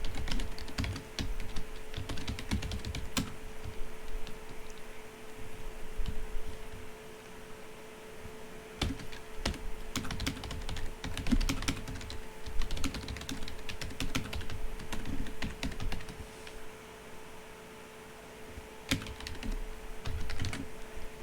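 Typing code on a computer keyboard: a long run of quick, light key clicks in irregular bursts with short pauses, close and fairly quiet over a steady electrical hum, no speech.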